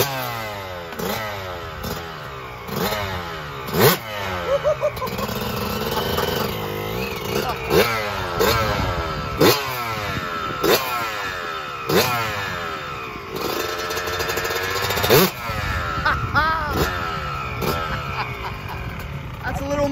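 A Yamaha YZ 125 Supermini two-stroke dirt bike engine revs and rides close by, loud and continuous, rising and falling through repeated throttle blips and gear changes, with people talking and reacting over it.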